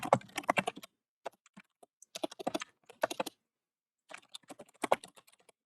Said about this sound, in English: I hear lots of typing.